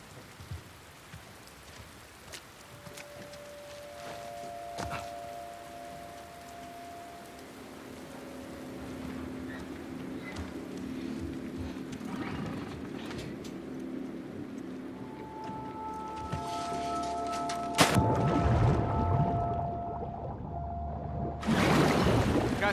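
A boat engine idles and runs amid steady rain on the water in The Last of Us Part II, a low rumbling drone that swells gradually under pattering rainfall, with a few sharp knocks near the end.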